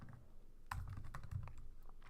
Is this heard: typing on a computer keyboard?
yes